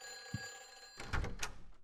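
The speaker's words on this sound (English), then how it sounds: "Let's go check out the phone because apparently we can only receive calls." A telephone rings in Silent Hill 4, a steady electronic ring tone with a brief low thump early on, then louder bursts of sound toward the end.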